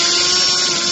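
Drill boring out small mushroom rivets on the roof cladding of a vintage caravan; a steady, loud, continuous whine runs for under a second with no pause.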